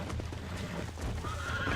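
Horse neighing while being broken in, in the Red Dead Redemption video game on Xbox One, a short close whinny over a rough steady background with scuffing hoof sounds.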